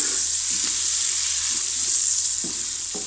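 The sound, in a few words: carrots frying in a pan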